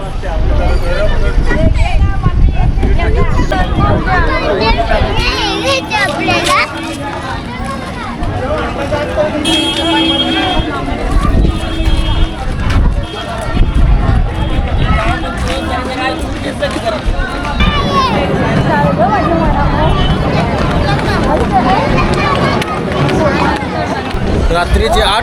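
A large crowd of pilgrims mills about at the Jyotiba temple near Kolhapur, a loud continuous babble of many voices with nearby talkers and occasional louder calls over a busy background.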